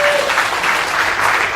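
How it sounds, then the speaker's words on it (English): Audience at a large conference event clapping in a dense, continuous burst, loud and close throughout the short stretch with no talking over it. "If you agree with me, please clap."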